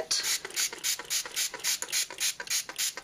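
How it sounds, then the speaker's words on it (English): Rapid spritzes of water from a repurposed spray bottle misting dollar-store kids' watercolor paint, about ten quick hissing bursts in a steady rhythm, close and fairly quiet with no talking. "I'm just spraying it with water in a repurposed bottle"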